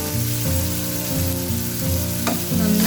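Tomatoes and salt frying in a pan are stirred, giving steady close sizzling with repeated scraping strokes of the spoon throughout.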